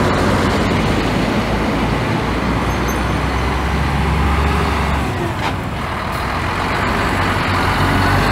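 A Gontijo coach bus engine rumbles at a bus station, a steady, loud low drone with heavy road-vehicle noise that swells slightly midway and continues throughout, no voices present.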